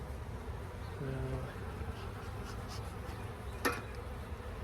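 Honeybees at an open hive during a quick check for swarm cells give a faint, steady buzz, with one brief closer bee passing by.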